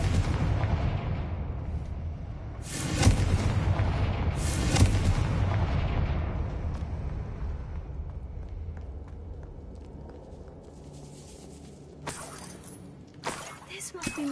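Fiery spell blasts from the Hogwarts Legacy video game burst in two sharp booms with crackling debris, followed by quieter ambience and a few later impacts.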